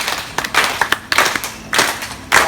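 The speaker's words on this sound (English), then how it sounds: "clap a beat on time with myself on the count of 3" Crowd at a Coffs Harbour dolphin show clapping in unison to a beat, distinct rhythmic bursts of many hands striking together, fairly loud and close with no talk.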